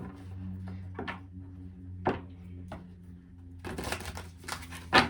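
A deck of tarot cards being shuffled by hand: scattered soft slaps and riffling flutters, close by, with a busier burst of card noise near the end.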